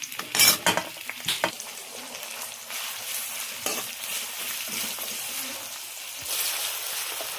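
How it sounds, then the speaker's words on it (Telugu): Chopped onions sizzle steadily in hot oil in a pan at home, with a spoon scraping and clinking against the metal as they are stirred, loudest in a few sharp strokes early on, then a continuous close fry. "ఈ నూనె కాగడానికి కూడా టైం తీసుకుంటుంది. చూడండి, ఇక ఇప్పుడైతే వేగిపోయింది. ఉల్లిగడ్డ వేసేస్తున్నా."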